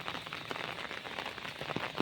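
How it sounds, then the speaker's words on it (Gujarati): Light rain falling outdoors as a soft, continuous patter with occasional isolated drop taps, fairly faint and even, with no one speaking. "અત્યારે તો ઓછો વરસાદ પડે છે"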